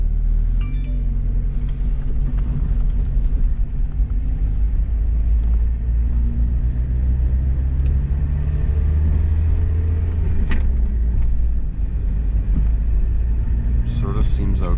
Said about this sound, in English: We'll just go around the block here a little bit.